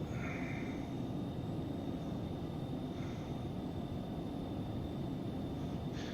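Aircraft engines spooling at takeoff power in the X-Plane 11 flight simulator, a steady broadband roar with a constant high whine, loud and unbroken throughout.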